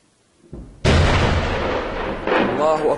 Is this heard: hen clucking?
no